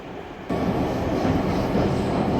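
Steady rumble and rattle of an electric train riding toward Stockholm, a quieter interior hum jumping abruptly louder after half a second and then holding a constant, close, full-bodied roar with no voices.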